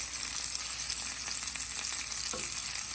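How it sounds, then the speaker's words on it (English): Squash and bell pepper pieces sear in hot olive oil, giving a steady, close, bright sizzle with faint scraping stirs and no voices. "And we're searing it in olive oil."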